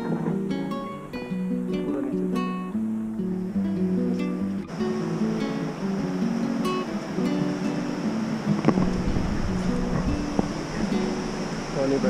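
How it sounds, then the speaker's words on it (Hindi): Water rushes along a snowy mountain stream fed from Surya Kund near Gangotri, a steady loud roar, joined early on by a droning engine hum that fades out. "पानी बह रहा है।"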